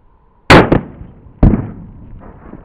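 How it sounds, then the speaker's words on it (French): A firecracker goes off outdoors with a sharp loud bang, and a second bang from its echo follows about a second later, each decaying quickly into a faint tail. "le bang du pétard précède un second bang dû à l'écho"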